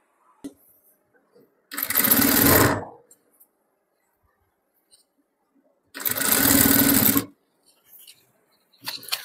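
A sewing machine stitches fabric onto a lehenga skirt in two separate bursts of about a second each, a loud close whir with near silence between them and faint handling sounds around.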